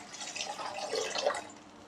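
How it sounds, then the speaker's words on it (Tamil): Dissolved tamarind water being poured into sautéed onions in a pan for tamarind rice, giving a faint, brief trickling and splashing of liquid with no talk. "இப்போ இதை வந்து வதக்கின வெங்காயத்தில் அப்படியே சேர்த்துக்கலாம்."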